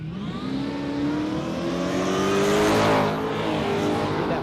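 A big block Chevrolet powered panel van drag racing, engine roaring loudly and rising in pitch as it accelerates hard, swelling to a peak midway then holding.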